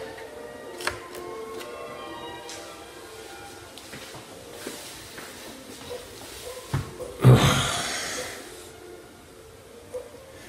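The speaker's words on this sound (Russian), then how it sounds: "люблю посидеть, посмотреть, как стиральная машина крутится" A washing machine spinning in a Spanish laundromat gives a steady mechanical hum and rattle, broken by intermittent clicks and a louder whooshing surge near the end.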